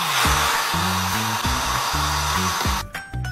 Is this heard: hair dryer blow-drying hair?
yes